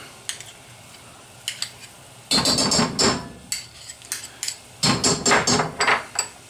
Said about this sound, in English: Give it a good whisking.